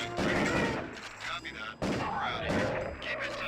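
Gunfire from the PlayStation game Area 51, played with a Justifier light gun, comes as repeated loud booming blasts in quick clusters with brief gaps between them.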